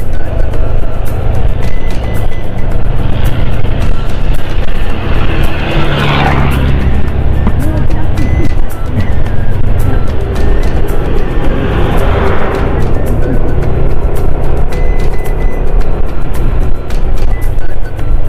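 Traffic on the Halsema highway near Atok, Benguet, outside Baguio City: a steady loud engine roar with vehicles passing close by, two strong sweeping pass-bys standing out over the continuous rumble.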